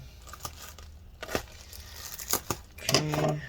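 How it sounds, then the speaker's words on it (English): Tape is cut and crinkles while an HP Pavilion 15-cs laptop is taken apart, giving several short, close snips and crackling plastic rustles spaced irregularly, with no talking. "this tape is wrapped around too much, so I'm going to cut it"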